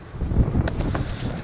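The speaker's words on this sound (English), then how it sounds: "It's so windy out here." Steady outdoor wind rushing and buffeting the microphone, a low rumbling gust that stays loud throughout with faint rustling on top.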